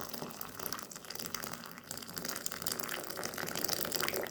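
Hot water pours from a kettle into a large tea cup, a continuous gushing, splashing stream that holds steady and swells slightly toward the end, close and alone without talk.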